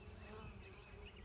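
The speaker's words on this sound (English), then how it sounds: "You can see all these bees right here." Honey bees at a beehive in an apiary, a dense continuous buzzing swarm, steady and close, faint overall with no talk.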